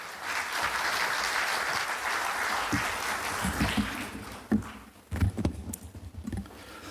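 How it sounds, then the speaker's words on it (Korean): A crowd at an academic conference opening ceremony applauds with steady, dense clapping that fades out toward the end, followed by a few scattered soft thumps. "여러분 큰 박수로 환영해 주시기 바랍니다"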